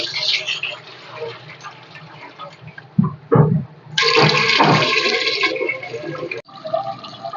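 Water pours and sloshes while rice is washed in a new clay pot, in uneven bursts of gushing and splashing with quieter pauses between them, and a voice talks over part of it.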